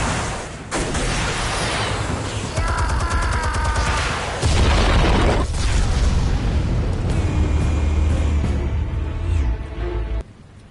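Explosives detonate in the video game Batman: The Telltale Series, producing heavy, loud booms and rolling rumbles that fill most of the stretch before cutting off abruptly near the end.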